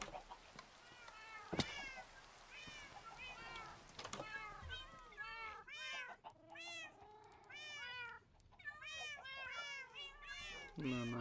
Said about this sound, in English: the sounds of all the cats.